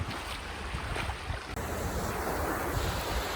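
Sea waves roll onto the sandy beach at Ostend, Belgium, a steady close wash of surf mixed with wind rumble on the microphone, continuous and fairly loud with no voices.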